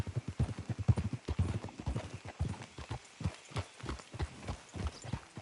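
Horses walk in Red Dead Redemption 2, their hooves clip-clopping in a close, steady rhythmic patter of many overlapping steps that runs the whole stretch at moderate loudness.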